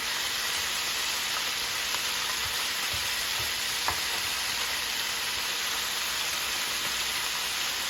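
Onions, garlic and seasoning stirred over pork spare ribs in an electric skillet, a steady even sizzle with occasional soft scraping taps from the stirring.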